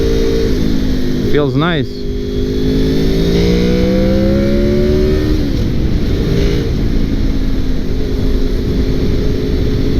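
A 2002 Honda VFR800 motorcycle accelerates, its engine note rising and shifting character partway through the pull. The sound is loud and close under heavy wind rush, and a rider speaks briefly.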